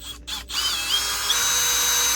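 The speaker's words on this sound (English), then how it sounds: "Probably a good idea to drill the holes when the light is off" A power drill whines into metal in a crawlspace, a brief pause, then a sustained high-pitched drilling run, close and loud.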